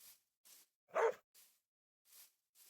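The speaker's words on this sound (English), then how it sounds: "this dog has the most annoying bark" A dog in the Minecraft video game gives one short clear bark, with faint sharp clicks spaced evenly before and after it.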